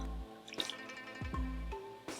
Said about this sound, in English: Let's go ahead and wash the cups.